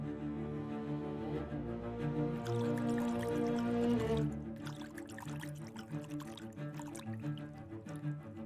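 Hands being washed in a small container of water indoors, with steady splashing and pouring over a constant background hum, the sloshing turning choppier toward the end.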